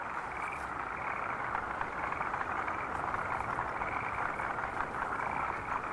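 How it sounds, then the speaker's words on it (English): Forest green tree frogs call in a dense, steady chorus, a continuous rasping trill of many overlapping voices at night, with no talk. "Forest green tree frogs."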